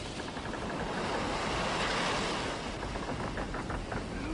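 A dramatized storm at sea: heavy ocean waves surge and roll with gusting wind, a loud continuous wash of surf that swells toward the middle and eases slightly, with no voices.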